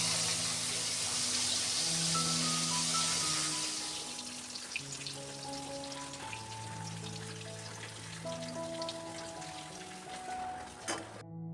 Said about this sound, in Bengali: প্রচণ্ড বৃষ্টি পড়ছে